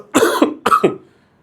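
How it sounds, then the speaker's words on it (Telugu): A person gives two rough, close coughs in quick succession, loud and dry, followed by silence. "ఈ నా వీడియో నాకు చూసుకుంటేనే ఇబ్బంది అనిపిస్తుంది, దగ్గుతూ ఉంటే"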